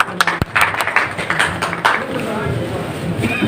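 Audience applause at a welcoming gathering: scattered claps and taps ring out over a voice speaking through the clip, rising to a brief thicker patch of clapping near the start, moderately loud.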